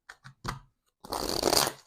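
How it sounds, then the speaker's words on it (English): Tarot cards being shuffled by hand: a few soft taps and riffles, then a sustained near, crisp riffling burst lasting nearly a second, with no talk. "Let me just shuffle the cards."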